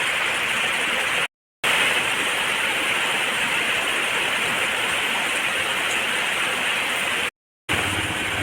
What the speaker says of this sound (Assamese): ইমান বৰষুণ দিছে